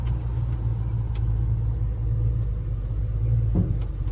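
A 1986 Chevrolet C10 truck with an LSX engine rumbles at a steady idle during a brake test, a loud, deep, continuous throb up close with a brief rise near the end and no talking.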